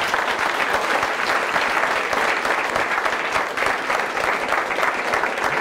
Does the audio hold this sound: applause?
yes